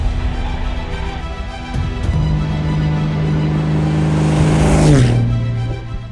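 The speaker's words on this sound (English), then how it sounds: "All right, simulated engine failure." Light aircraft engine during a simulated engine failure in flight training: a loud steady propeller drone fills the cabin, then the engine note audibly drops in pitch as power is pulled back near the end.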